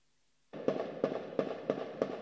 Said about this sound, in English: Gunshots echo through the streets of Port-au-Prince.